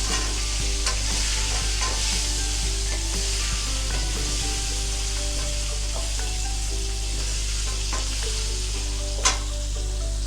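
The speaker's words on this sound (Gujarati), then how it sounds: "કેળા મેં 250 ગ્રામ લીધા હતા અને શક્કરિયા મેં 150 ગ્રામ જેટલા લીધા હતા. એ બંનેને હલાવી દઈશું." Banana and sweet potato fry in a pan for undhiyu, with a steady loud sizzle and a spoon scraping and stirring through the pieces, plus a few light knocks.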